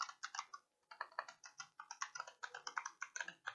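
Rapid typing on a computer keyboard, close and fairly quiet, with dense irregular clicks and keystrokes and one short pause before the tapping resumes.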